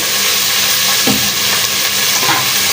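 Onions and beef fry in a pan for beef gravy while being stirred, giving a loud, steady sizzle with a few scraping strokes of the spoon across the pan.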